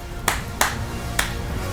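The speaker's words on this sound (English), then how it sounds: "Go ahead, clap for me, babe." Three separate hand claps sound close and sharp against a quiet room, the first two about a third of a second apart and the third after a longer pause.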